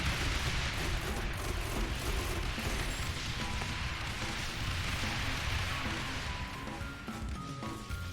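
Dense, continuous barrage of mortar fire in the tower defense game Rogue Tower, a thick rumbling wall of overlapping booms and bursts held at steady loudness throughout, with no talking.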